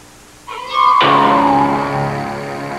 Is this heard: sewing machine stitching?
no